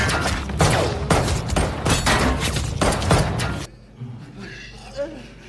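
Rapid bursts of gunfire from a weapons warehouse crackle loudly in repeated volleys, then cut off, leaving a quieter background with faint voices.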